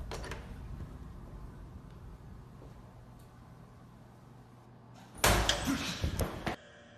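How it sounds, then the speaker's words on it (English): A toilet stall door in a restroom slams shut on its own, a sudden loud bang with brief rattling after several seconds of quiet room noise. "Without warning, the stall suddenly slams on its own."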